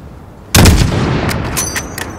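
A single loud, sharp rifle shot in Call of Duty: Modern Warfare, a sniper firing at 600 meters range, cracking up from quiet and trailing off into a rumbling echo with faint clicks.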